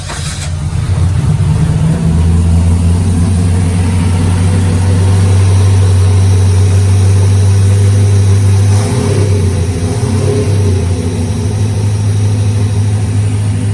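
Car engine firing up in a workshop at night after a valve clearance adjustment, settling into a loud, steady low idle that holds throughout with a slight dip and recovery midway.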